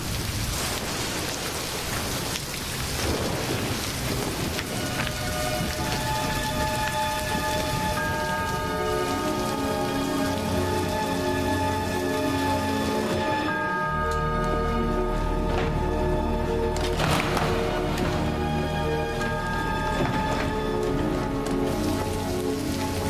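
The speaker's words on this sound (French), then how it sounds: "Je vous préviens, cette tempête s'intensifie." Heavy rain drumming steadily on surfaces during a storm, loud and continuous, with a deep thunder rumble rolling in partway through and tonal music swelling over the downpour.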